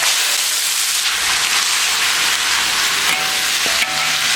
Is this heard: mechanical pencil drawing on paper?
no